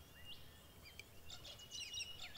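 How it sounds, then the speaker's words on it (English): Small birds chirping and tweeting on a house roof, short bright calls scattered near and faint over a quiet background, growing busier toward the end. "birds on the roof"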